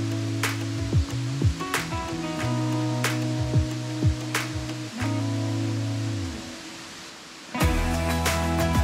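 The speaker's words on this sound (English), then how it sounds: "So we're down here at the waterfall." A waterfall pours as a steady broadband rush throughout, mixed with close thumps, clicks and handling noises on a slick, muddy slope.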